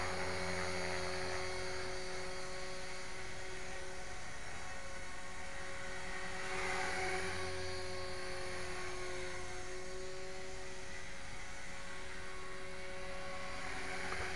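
A small HK 450GT radio-controlled helicopter flies steadily over snow, giving a continuous high-pitched rotor and motor whine with a faint swell in the middle and no speech.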